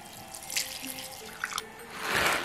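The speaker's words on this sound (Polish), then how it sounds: "teraz do garnka z kapustą dolewam sobie wodę po gotowaniu grzybów" Mushroom cooking water is poured into a pot of cabbage, with a few close splashes and drips followed by a brief louder gush near the end; no talking.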